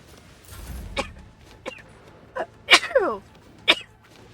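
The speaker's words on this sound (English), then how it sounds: "I'm sneezing now." A sharp sneeze bursts out amid a few other short vocal noises and faint movement, fairly close and brief.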